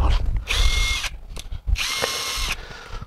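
A WOSAI 20V WS-MD13 brushless cordless drill whirs close by in two high-pitched bursts, with a brief mechanical rattle in the pause between them and no talking.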